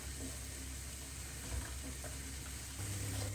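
Onion and carrot fry in a pan with a continuous, moderate sizzle and faint stirring, which swells slightly toward the end.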